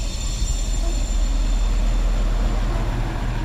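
Sprinter commuter train underway, a steady loud rumble of wheels on rail with a faint high whine running through it.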